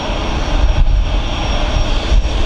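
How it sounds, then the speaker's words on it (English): An Airbus A350 jet taxis past at Manchester Airport with a loud, steady engine roar and a broad rushing whine that swells slightly. It sounds close and carries on without a break. "I'm going to flip the microphone around so you can hear the lovely noise of the A350 as the taxi's past."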